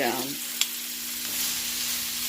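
Bitter gourd frying with turmeric and salt in a Ninja Foodi, a steady close sizzle with a brief sharp clink early on and a faint constant hum underneath.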